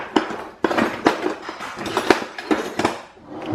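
A small metal whisk stirs Texas sheet cake ingredients in a bowl, making irregular close clinks and scrapes against the sides with short pauses between strokes.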